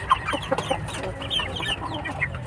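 Chickens and young stags of a home-bred fighting breed, such as aseel or shamo, cluck and chatter close by on a rooster farm. Short calls overlap in a busy, irregular stream.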